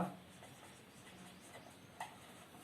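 A pen writes a final answer by hand in a quiet room, giving soft, faint scratching strokes with a few small taps and no speech.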